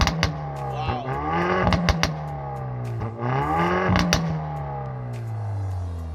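A Hyundai i30N exhaust revving hard several times, rising and falling in pitch with sharp pops and crackles, loud and close.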